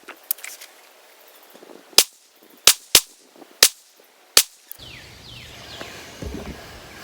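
Walther CCP M2 .380 pistol fired at an outdoor range, sharp shots heard one at a time with short irregular gaps, followed by rustling and handling noise.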